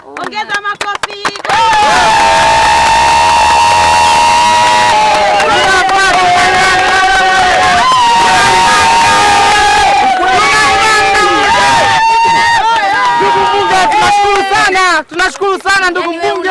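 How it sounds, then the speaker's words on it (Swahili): A large crowd at a parliamentary campaign event cheers and shouts loudly for their candidate, a dense, close roar of raised voices that barely lets up. "makofi kwa mgombea ubunge wetu"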